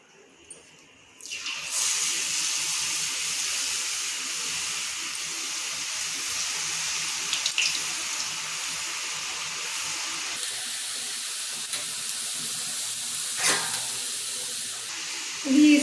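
Rice flour murukulu dough sizzles in hot oil, a steady bright hiss that starts abruptly and holds loud and even for the rest of the stretch, with a few small crackles and no talk.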